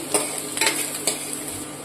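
Finely chopped carrots and onion sautéing in a pan, a continuous bright sizzle broken by a few short scraping strokes of the spatula, close and fairly loud.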